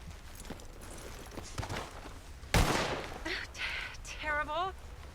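Gunshots ring out during shooting practice in Red Dead Redemption 2, a sharp loud report near the middle followed by further fainter shots, with speech heard afterward.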